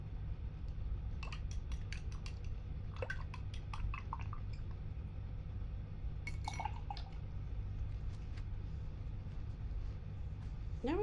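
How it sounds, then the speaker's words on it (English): A paintbrush is rinsed in a water cup during acrylic painting, giving scattered clinks and drips of water against glass over a steady low background hum, with a few brief bursts of swishing and tapping. "I'm going to wash my brush."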